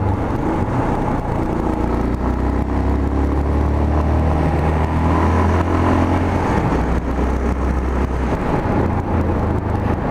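A motor tricycle passes on a mountain road, its engine a steady close drone with road noise, rising and easing over about ten seconds without speech.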